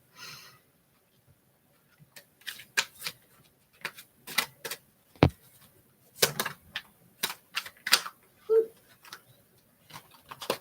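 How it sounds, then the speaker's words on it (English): Tarot cards being shuffled by hand, a run of crisp, irregular flicks and snaps, close and fairly quiet, separated by brief silences. "So I'm going to just get my cards shuffled"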